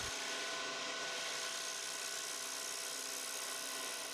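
A curved scraper cuts steadily inside a turning maple and mahogany box on a lathe, giving a continuous even whirring hiss with no pauses or talk.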